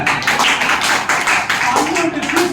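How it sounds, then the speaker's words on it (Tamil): Children at a kids' Bible club session clap their hands together in a quick, steady rhythm, the sharp claps close and loud, with voices mixed in. "பன்னெண்டு பேரு சொல்லுங்க ஜோரா கைத்தட்டுங்க"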